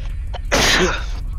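A single sharp, loud sneeze bursts out close by after a short quiet lead-in, with no talking around it.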